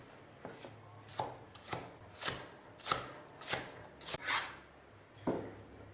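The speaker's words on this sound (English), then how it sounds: "cut the radish into 2 cm small squares" A knife chops white radish into small squares on a cutting board, about ten distinct, evenly spaced thuds, close and clear.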